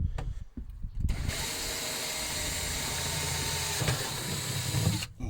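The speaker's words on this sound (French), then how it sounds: "Et allez, je perce le premier trou." Power drill boring a hole in a wall during a fishing boat renovation, a steady loud motor whine held for several seconds and then cutting off.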